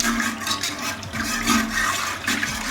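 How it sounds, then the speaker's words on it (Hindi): Two glasses of water are poured into a pot of chicken with salt, chili and basic spices, a brief close rushing splash with no voices. "सारे स्पाइसेस के साथ अब हम इसमें पानी डालेंगे।"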